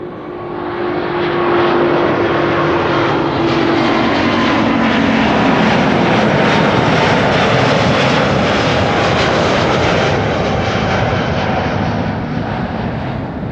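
A Delta Airlines jet airliner at Amsterdam Schiphol Airport gives a loud, steady engine roar from start to finish, with a faint falling whine early on and no voices.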